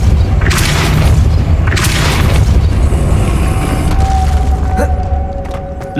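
A Depulso spell cast in the Hogwarts Legacy video game: booming, whooshing magical bursts that swell and fade several times over a continuous loud backdrop, with a faint tonal ring near the end.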